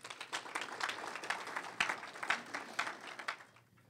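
Applause for award winners at a conference, a scattered crowd clapping at a distance, fairly faint, building and then tapering off over four seconds.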